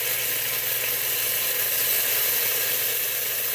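Garlic cloves sizzling in a hot pan while being stirred, a steady, dense frying hiss that holds level and close throughout, with no talking.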